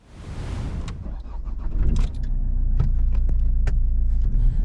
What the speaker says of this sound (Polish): najsłabsza jednostka silnikowa występująca w tym modelu Astry, oczywiście z gamy diesli